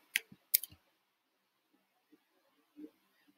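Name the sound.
mouse click on DNS link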